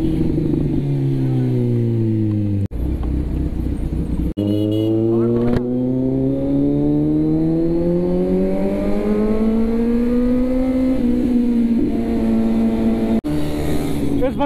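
A Kawasaki Z900 superbike engine revs and accelerates along a bypass road, a loud close exhaust note rising in long sweeps with brief gaps between pulls, steady wind noise underneath.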